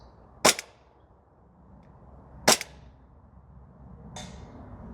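A Novritsch SSP28 airsoft pistol fires BBs at a target on a range. Three sharp, close snaps ring out about two seconds apart, and the last one is slightly softer.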